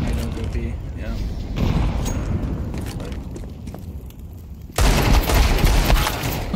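Pistol gunshots in a shooter video game crack out as sharp bursts over a dense, busy game soundscape, with a player talking throughout and a louder, fuller stretch of firing near the end.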